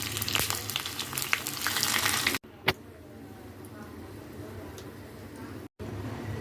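Onions and garlic fry for a tempering in a pan with mustard seeds and dal, a steady close sizzle that drops abruptly partway, then continues more quietly with a brief crackle; faint talk sits underneath.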